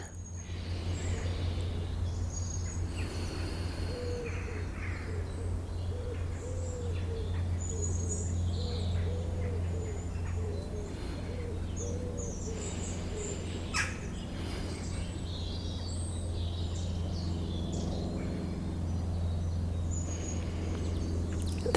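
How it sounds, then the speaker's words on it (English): Layered birdsong from several birds, chirps and calls scattered across the soundscape over a steady low hum, with no talking. "There's so many layers of sound in the bird song."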